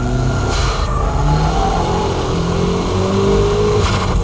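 A car engine revs continuously during a wet-track drift with the e-brake pulled, a loud, steady roar with rising and falling pitch and no voices.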